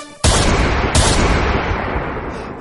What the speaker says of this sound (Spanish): ¡Han disparado a Luis Alfonso!